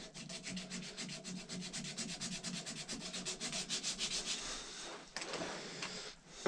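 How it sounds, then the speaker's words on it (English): Orbital sander working a wooden revolver stand, a close, steady rubbing drone with rhythmic pulsing, then a brief pause and a few scuffs near the end. "get your orbital sander and have at it."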